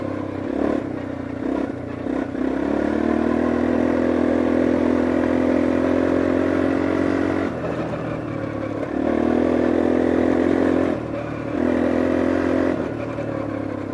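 A Sym Trackrunner 200 motorcycle being ridden, its loud engine droning close and continuous, swelling and easing as the throttle changes, with a brief dip partway through and no talking.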